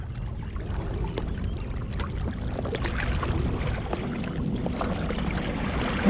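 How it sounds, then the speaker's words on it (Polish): A belly boat's motor running out on the water gives a steady, low rumbling drone that holds for the whole stretch, with faint watery wash over it and no talk. "Odpalę silnik."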